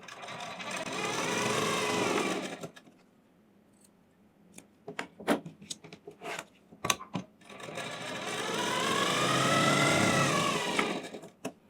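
Sewing machine stitching a blouse, two long runs of rapid mechanical whirring separated by a gap of scattered clicks and fabric handling, close and fairly loud, with no speech.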